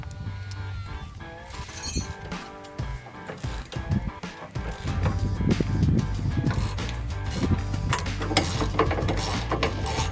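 A ratchet works at bolts under a 1997 Ford F250, giving steady clicking pawl bursts and metallic clinks over a continuous low hum throughout, close and fairly loud.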